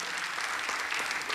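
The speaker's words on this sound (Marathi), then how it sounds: "त्या सगळ्यांसाठी एकदा जोरदार टाळ्या होऊन जाऊ देत." An audience at a memorial stage performance claps, brief steady applause at moderate level with no voices over it.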